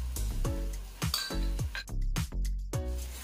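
Fish roe tipped into spiced masala in a pan, with repeated clinks of a utensil against the pan in a steady rhythm, close and fairly loud, with no voices.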